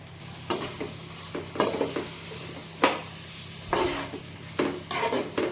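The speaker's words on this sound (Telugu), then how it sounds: "పుదీనా పేస్ట్ అంతా దీంట్లో వేసుకోవాలి పచ్చివాసన పోయే వరకు దీన్ని అయితే వేపుకోవాలి" Mint paste fries in a pan while a spoon stirs it, with repeated scraping strokes and bursts of sizzling at close range, no talking.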